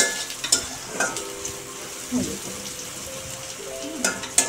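Onion frying in oil in a pan for a taro-leaf dish, with a soft steady sizzle under occasional stirring scrapes and clinks, close and moderately quiet throughout.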